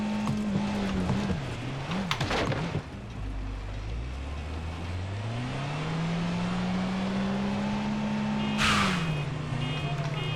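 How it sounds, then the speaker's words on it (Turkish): A car driven in Far Cry 6, its engine note holding a steady drone that rises and falls with shifts in speed, with brief louder bursts of noise along the way. "Yalnız bu aracı da sürmek keyifli ha"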